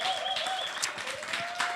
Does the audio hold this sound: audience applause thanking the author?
yes